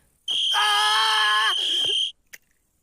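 In a cartoon, a shrill tonal whistle blast rings out for about two seconds, bright and steady at full loudness before cutting off, followed by a brief soft click.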